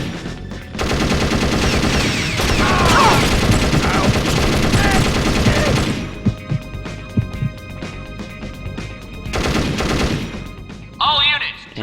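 Sustained rapid gunfire from a mounted turret in the video game Perfect Dark Zero, loud and continuous for several seconds, then breaking into scattered bursts and single shots with other game sounds.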